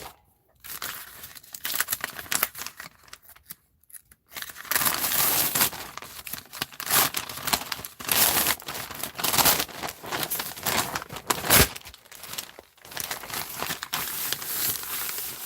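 Pages of an old, previously used book are handled and pressed as a glue surface, giving continuous rustling, crinkling and tearing-like paper noise in uneven bursts with brief pauses, close up.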